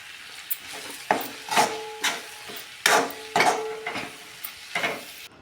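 Capsicum sabzi being stirred with a spatula after coriander and crushed peanut powder go in, giving a series of separate scraping, clinking strokes against the pan at an uneven pace, close and moderately loud, with no talking.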